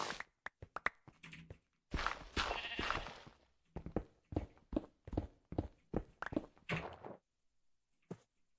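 Sheep bleat in a video game, a series of short nasal bleats repeating in a quick rhythm with clip-clop footstep-like sounds, close and fairly loud over a faint steady high tone.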